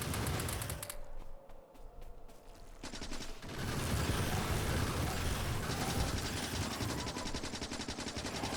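Friendly gun turrets and the player firing at enemies in Factorio, rapid steady machine-gun rattling throughout, a brief quieter stretch early on, then dense continuous fire, moderately loud, with no talk.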